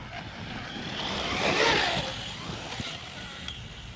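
A Traxxas Rustler 4x4 VXL RC truck on Sledgehammer tires drives through grass, its electric motor giving a rising and falling whine that peaks midway, moderately close, over a steady background hiss.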